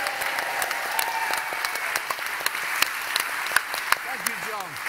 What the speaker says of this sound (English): there's another round of applause for John Gorman.